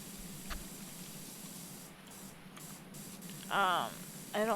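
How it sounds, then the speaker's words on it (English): Shine spray hisses from a can onto an object in a long, even burst lasting a few seconds, close and fairly soft. A person speaks briefly once the spraying stops. "I need to spray the shine back into it."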